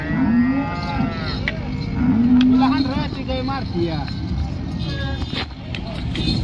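A cow moos at a busy cattle market in Modnimb, giving several drawn-out, rising-and-falling calls near the microphone while people talk throughout and engines rumble in the background.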